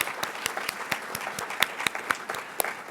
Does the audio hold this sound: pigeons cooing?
no